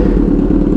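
A Kawasaki Z900 motorcycle with a full SC Project exhaust system and no catalytic converter roars very loudly and close up, a dense, steady, low rumbling engine note with no talk.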